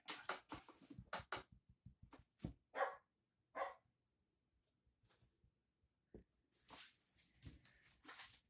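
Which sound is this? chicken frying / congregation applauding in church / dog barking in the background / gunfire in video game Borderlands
dog barking in the background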